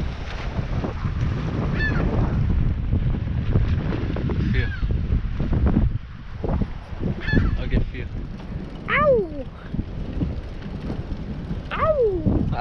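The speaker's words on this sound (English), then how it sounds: "Así hacen las seagulls." Seagulls give several sharp, rising and falling calls outdoors on a windy lakeside museum campus, moderately near, over steady wind and background rumble, with people talking nearby.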